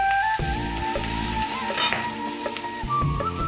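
Fish fries in hot oil with a constant close sizzle. A steady tonal hum and a brief louder crackle run over it, and no voices are present.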